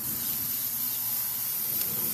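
Cooking oil from an aerosol can sprays onto outdoor barbecue grill grates before pork ribs go on. The hiss is continuous and close, with no talk over it.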